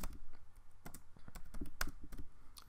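Typing on a computer keyboard while entering text in Mathcad, quick irregular key clicks close up and fairly quiet, with no speech.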